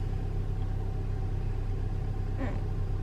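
Steady low engine rumble heard from inside a moving car early in the morning, a constant droning hum with road noise and no speech.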